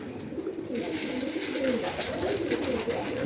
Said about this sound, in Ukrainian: Ось такий голубенятка.